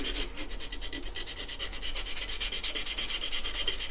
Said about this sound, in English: you can do a little bit of hand sanding around these